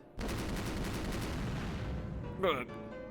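Dense rapid gunfire from a Rose Guns Days shootout, a continuous loud volley of shots that cuts off near the end with a brief sharp metallic ring.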